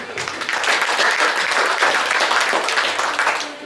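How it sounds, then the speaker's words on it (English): Audience applause fills a crowded Old West saloon, a steady wash of many hands clapping close by that swells and holds before tapering off at the end. "Give a round of applause."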